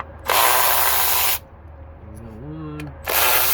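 A power ratchet fitted with a T30 Torx bit loosens ignition coil bolts on a 2020 Dodge Journey. It gives two long, loud buzzing runs close up, with a short whirring tone in the quiet gap between them.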